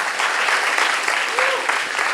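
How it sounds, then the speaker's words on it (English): An audience at a design systems conference in Paris breaks into a steady burst of close, dense applause, with faint voices underneath. "So massive applause to the Ledger team."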